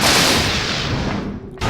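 A single rifle shot in the survival horror game Silent Hill, a loud broadband blast with a sustained booming tail that cuts off abruptly near the end.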